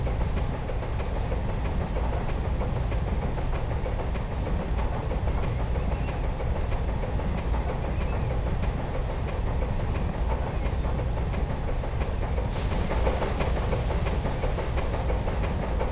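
A train rolls steadily along the track in a railroad simulator game set on the New Haven line, a continuous rumbling wheel-and-rail noise with faint clickety-clack throughout, no voices.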